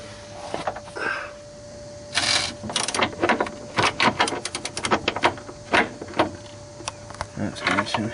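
A socket wrench ratchets against a rusted fastener on a 2001 Ford E350 with a 7.3 PowerStroke engine during a rebuild. Irregular bursts of sharp mechanical clicking come in uneven groups, with a faint steady hum underneath.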